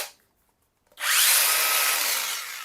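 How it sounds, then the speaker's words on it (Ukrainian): After a moment of silence, a cordless angle grinder on a Bosch 18 V 5.0 Ah Li-Ion battery spins up with a loud, steady high-pitched whine that holds close and then eases slightly. "Тепер візьмемо болгарку."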